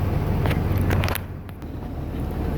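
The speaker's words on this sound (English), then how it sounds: "a car just went by and stopped right in front of me" A car rolls past close by and pulls to a stop at night, a loud low engine rumble with gusty wind buffeting the microphone, easing off partway through and then settling into a quieter idle.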